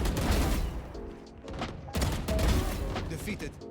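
Rapid gunfire bursts in the tactical shooter Valorant, sharp shots in quick clusters with brief pauses, under a player's spoken callouts.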